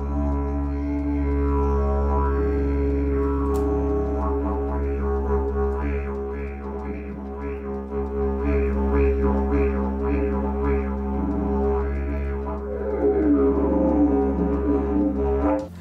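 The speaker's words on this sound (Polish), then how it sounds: "To jest didgeridoo." Didgeridoo built from local Lithuanian materials, playing a steady low droning tone with pulsing overtone patterns and rhythmic vocalised accents, loud and continuous throughout.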